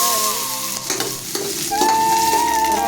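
Mustard seeds, cumin and dried chillies fry in a spoonful of oil for sambar, a loud close sizzle with popping crackles alongside a steady tonal hiss.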